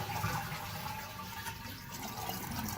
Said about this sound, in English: And then you want to hit your handle, and that will drain your bowl.